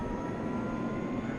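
An F-15EX jet engine, engine number two, spools up on its own during startup in the DCS flight simulator, a steady whining roar that is close and continuous with no voices over it.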